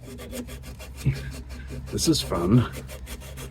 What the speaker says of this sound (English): All right, looks like a bit of sanding required.